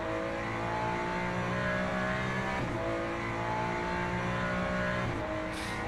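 Race car engine in the video game Le Mans Ultimate at Portimao, an LMGT3 car droning steadily at high revs with brief dips around gear shifts, loud and continuous with no talk.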